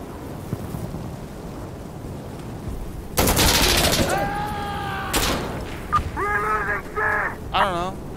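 Gunfire in the video game Insurgency Sandstorm, a few sharp loud cracks and bursts breaking a quieter stretch, followed by ringing, pitch-bending tones and further shots.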